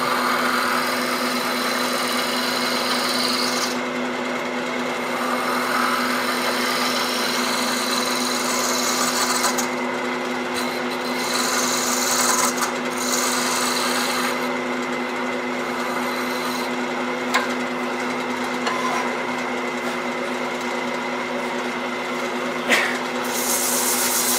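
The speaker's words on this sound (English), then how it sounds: "using the scraper you're pushing directly on so you're less likely to dislodge it. Very light pressure." A wood lathe spins a turned wooden box while a scraper is pressed lightly against it, giving a steady, close whirring hum with faint scraping texture and small irregular ticks throughout.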